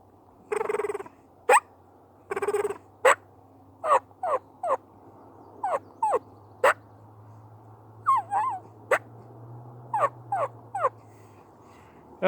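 Hand-operated turkey call imitating a hen's soft feeding whines and contented purr; a series of short, rising whine notes and brief rolling purrs, spaced irregularly and close up, with no talking.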